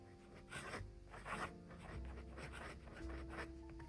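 Fountain pen with a medium nib scratching steadily across paper in repeated close strokes, quiet and alone without talk.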